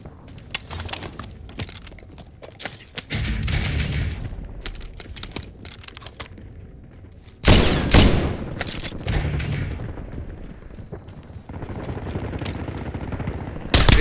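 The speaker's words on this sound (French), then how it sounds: "Je subis des tirs." Gunfire in a video game: rapid automatic bursts and fusillades, loud and close, with heavier blasts and sustained firing across the stretch.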